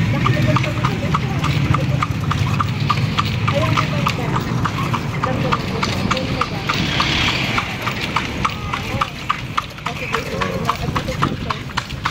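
Horse hooves clip-clop in a steady, even rhythm on a street in Vigan's Calle Crisologo, close and clear, while people talk over the hoofbeats throughout.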